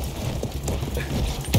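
Horse hooves clip-clop in a quick, close rhythm in the World War I shooter video game Battlefield 1, a short run of steps ending in a louder thud.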